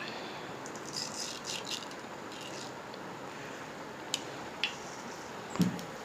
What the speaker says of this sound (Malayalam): ചൂടായി കഴിഞ്ഞു. ഇനി നമുക്ക് കടുക് ഇട്ട് കൊടുക്കാം.